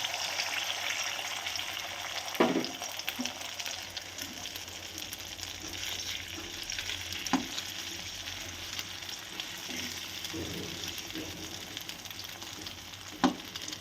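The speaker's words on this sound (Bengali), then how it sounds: "এবার আমি ডিমটাকে ভাজার জন্য এখানে তেল দিয়ে দিচ্ছি" Egg frying in hot oil in a pan, a continuous soft sizzle with a few sharp crackles and spatters scattered through, fairly quiet and close, with no talking.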